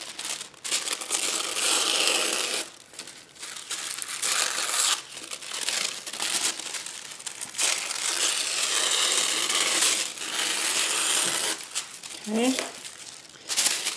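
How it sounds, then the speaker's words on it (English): Tissue paper being torn along its straight edges, close, continuous crinkling and ripping in long bursts with brief pauses, with a voice speaking at points. "I'm going to tear off the straight edges of the tissue."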